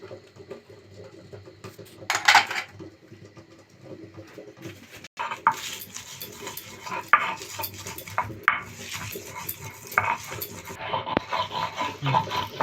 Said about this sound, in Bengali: পেঁয়াজগুলোকে বেটে নেব